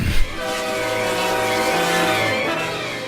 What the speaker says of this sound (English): The train was coming closer. I could hear its bell tolling, its cry, its whistling, crying.